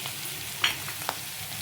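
A turned omelette fries in a pan with a steady close sizzle, broken by two short spatula clicks or scrapes.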